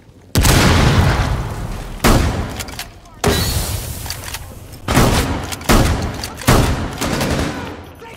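Tactical shooter gunfire and explosions from Rainbow Six Siege: loud, close booming blasts and bursts of shots in about six heavy waves, each decaying into rumble, with a shouted voice in the mix.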